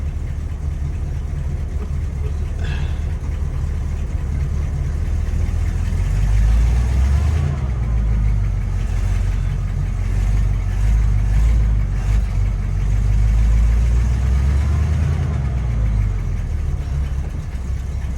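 The engine of a 1969 Buick Skylark project car idles slightly slow, a steady low rumble close by with some uneven surges in the middle, and no talk over it.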